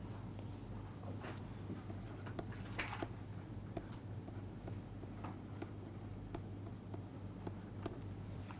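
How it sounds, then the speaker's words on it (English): Pen or marker writing out an equation, likely on a board or paper during a finite difference lesson, with soft scratchy strokes and taps repeating steadily over a constant low background hum. "So, I will write that down."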